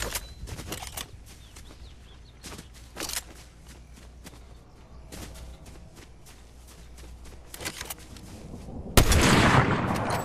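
Sniper rifle shots in Fortnite, a series of sharp isolated cracks spread across the stretch, with a louder burst of noisy gunfire near the end over faint background game ambience.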